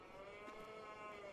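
Cattle in a farming video game moo in a long, low, drawn-out call on a snowy farm, clear and steady with no talk over it.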